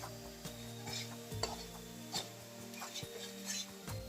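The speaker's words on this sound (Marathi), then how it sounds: "शिमला मिरची आहे ती घालून घेते आणि फास्ट गॅसवर तीन ते चार मिनिटं व्यवस्थितरित्या परतून घेते" Capsicum sautéing in a pan over a high gas flame, with a steady low sizzle broken by repeated stirring and scraping of the spatula against the pan, close and fairly quiet.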